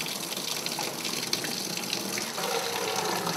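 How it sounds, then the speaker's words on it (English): Hot water gushing steadily from a tap into a plastic winemaking bucket, a continuous full splashing rush throughout, close and fairly loud, with no talking. "Right now we're adding some hot water."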